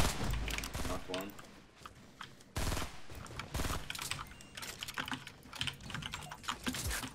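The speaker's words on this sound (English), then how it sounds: "Someone's keyboard." Rapid clattering keystrokes on a computer keyboard during a Fortnite Battle Royale match, dense and fairly close, running under a person talking and game sounds.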